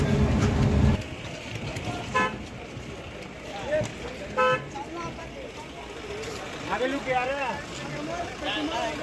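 Heavy, slow-moving road traffic near Vashi market, with repeated car and truck horns honking at various distances over an engine rumble, and voices talking nearby.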